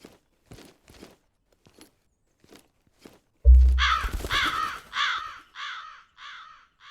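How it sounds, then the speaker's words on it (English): Crows in the video game Jaws of Extinction, a sudden loud wing flutter as the flock takes off, then a string of harsh caws that repeat and trail off, after a few soft footsteps. "Oh, I scared the birds away."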